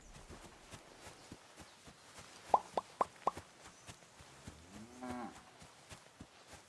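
Cattle low in a small village in the video game Kingdom Come: Deliverance 2: a drawn-out moo rises near the end, preceded by a quick run of four sharp knocks over soft ambient footsteps, with no talking.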